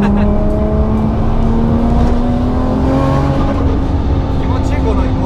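A Toyota Supra JZA80 with a 2JZ engine and TO4Z full turbine kit accelerates hard, its loud engine note climbing steadily in pitch as it pulls through the revs, with people talking over it.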